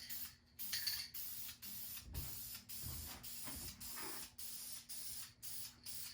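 Short bursts of aerosol spray paint applied in light coats under a car hood, a series of close hissing puffs separated by brief pauses in an even rhythm.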